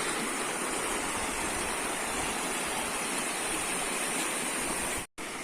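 A river streams steadily past a bridge, a dense, even rushing wash that stays loud and close throughout and breaks off abruptly just before the end.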